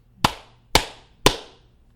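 Three sharp hand claps, evenly spaced about half a second apart, close and crisp, each with a short decay, with no talking over them.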